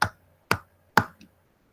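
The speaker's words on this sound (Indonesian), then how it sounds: "Beri 3 tepuk untuk Kak Kiki" Three crisp, evenly spaced claps from a classroom group, about half a second apart, close and clear against near silence, with a faint softer tap trailing the last one.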